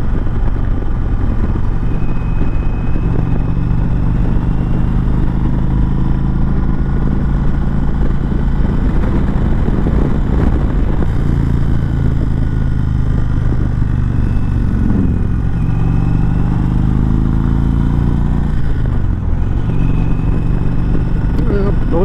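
A 2019 Indian Chieftain Dark Horse motorcycle rides Virginia's winding roads in fourth gear, its loud continuous engine drone and wind rush filling the whole stretch with small pitch shifts as the throttle changes.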